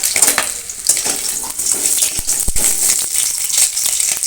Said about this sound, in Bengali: এবার আলুগুলো ভাজবো